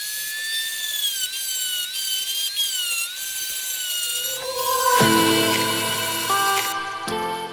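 Grinder polishing a rusty front brake part from an Opel Astra F, a loud close whining grind with shifting pitch, changing to a harsher rough scraping tone halfway through.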